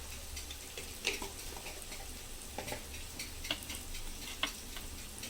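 Gavar bhaji is sautéed in a pan with homemade masala, turmeric and chopped coriander, giving a steady soft sizzle. Occasional light ticks and scrapes come from the stirring, fairly quiet and without any voice.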